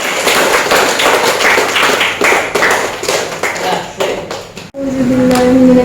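Applause from a classroom audience at an Islamic religious education lesson in an Indonesian pharmacy vocational school: a few seconds of dense, steady clapping that stops abruptly, followed by a voice beginning to speak.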